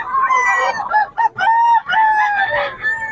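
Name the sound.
lemon sweater gamefowl rooster crowing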